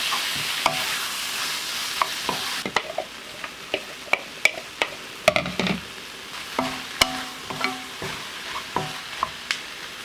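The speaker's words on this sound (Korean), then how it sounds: "후 오징어를 넣어 볶아줍니다" Squid being stir-fried in a pan with onion: a steady hiss and sizzle punctuated by frequent sharp clacks and scrapes of a spatula tossing the pieces, loud and close.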